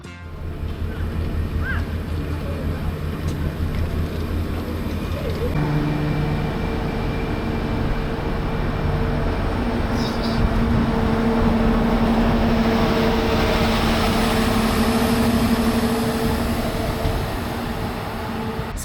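Steady rumble of a moving train in Tunisia on the line from Tunis toward Sousse, with a continuous low drone, a shift in pitch partway through and occasional higher rattles, loud and close throughout with no talking.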